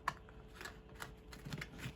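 Tarot cards riffle and tap in a quick, soft, irregular shuffle, close up and faint, with no talk over them.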